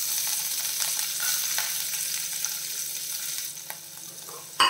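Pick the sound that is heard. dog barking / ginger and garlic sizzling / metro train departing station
ginger and garlic sizzling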